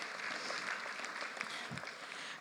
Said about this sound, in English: think that's a clap for Netflix.